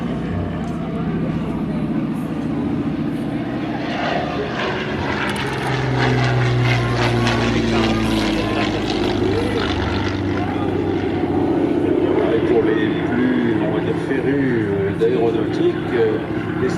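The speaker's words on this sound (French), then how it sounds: "Voilà le zéro en face de nous, suivi par le P40." A Mitsubishi Zero followed by a P-40, both propeller warplanes, drone past in a sustained engine roar that swells toward the end, with a commentator's voice over it at an air show.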